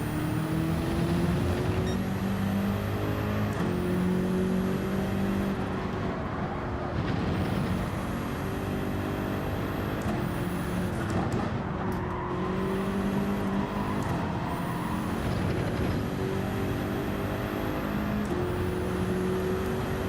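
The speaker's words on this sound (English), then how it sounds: "Love the sound of the Ferrari," A Ferrari race car engine in a racing video game drones and whines steadily through repeated upshifts, each gear change marked by a brief dip before the pitch climbs again, loud and continuous with no talk.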